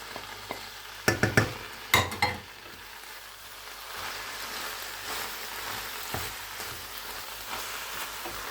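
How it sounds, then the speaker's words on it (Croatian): Spinach and mushrooms frying uncovered in a pan, a continuous gentle sizzle with a few sharp spatula scrapes and knocks near the start, no talking. "Lagano pržite, ovako bez poklopca, da povrće pusti fino svoje arome."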